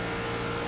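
A NASCAR Gen 4 Cup car engine in iRacing holds a steady high-rpm drone at speed on the Auto Club straightaway, loud and continuous with a dense harmonic whine and no pauses.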